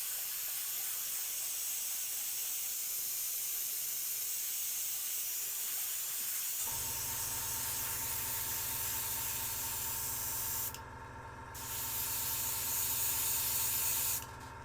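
Meeden 3x airbrush set with a 0.5mm needle spraying water; a steady, close hiss runs throughout, changing to a harsher, more tonal spray partway, briefly cutting out near the end, then resuming.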